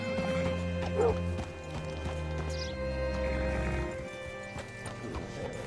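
Rhythmic clip-clop of horse hooves with a horse whinnying in Red Dead Redemption 2, set over a low ambient drone; no talking.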